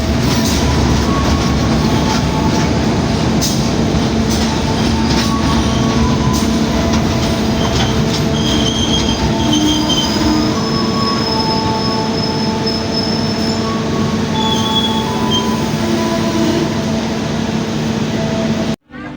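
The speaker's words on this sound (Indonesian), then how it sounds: "setelah kereta api Logawa diberangkatkan lebih dahulu dari stasiun Kalisetel" The Logawa passenger train departs a station in Indonesia, rolling steadily along the tracks, wheels squealing and rumbling loudly and close by, with no talk, until it cuts off at the end.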